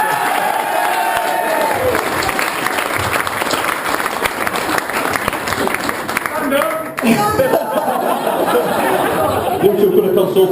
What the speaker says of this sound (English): a real big warm, big round of applause for the groom